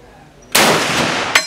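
Gunfire at a shooting range at the Cu Chi Tunnels: one loud close blast that rings out briefly, then a second sharp shot right after.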